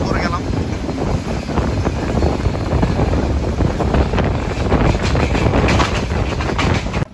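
Aboard the Padma Express from Rajshahi to Dhaka as it runs through Mouchak station at night, a loud, unbroken roar of wheels on rail mixes with heavy wind buffeting the microphone.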